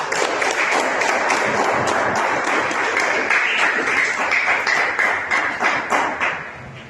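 A congregation at a Christmas church service bursts into applause, steady close clapping mixed with a few sharp taps and thumps that gradually fades out over several seconds.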